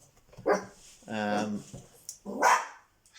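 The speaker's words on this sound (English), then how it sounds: "So, right, Eddie, the dog, there's somebody at my door now." A dog barks a few times indoors at someone at the door, with yips and a whining note, moderately close. A person talks alongside it.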